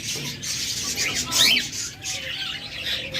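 Pet budgerigars or lovebirds, a male-female pair kept in a bird shop, give a short, shrill squawk and chirps midway, over a constant airy background hum.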